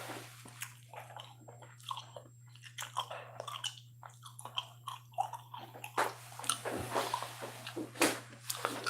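Gum chewing close to the mic, with steady wet, squishy smacks and clicks in an irregular rhythm over a constant low hum.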